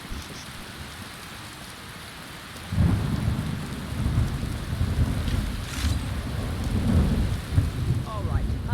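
Heavy video game rain pours steadily, then a loud rumble of thunder rolls in about a third of the way through and keeps going, with no talking.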